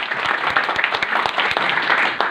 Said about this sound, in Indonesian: tepuk tangan untuk Kota Surabaya ya